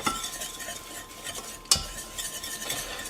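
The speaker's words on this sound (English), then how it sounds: "Continue stirring, continue whisking." A whisk stirs sauce in a pot for lasagne, with steady scraping and clinking against the metal, continuous throughout and one sharper knock of utensil on pot partway through.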